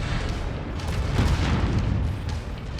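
SRM missiles striking in MechWarrior 5 Mercenaries: a dense cluster of booming impacts merging into a rumbling roar, loud and close, with no talk.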